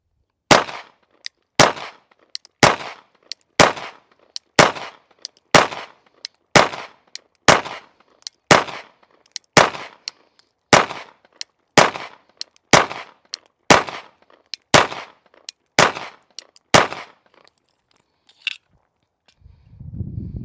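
Sig Xmacro pistol fitted with a Norso slide and a Radian Ramjet, firing about nineteen sharp, evenly spaced shots in a steady rhythm over roughly seventeen seconds, loud and close, followed by quiet handling noise.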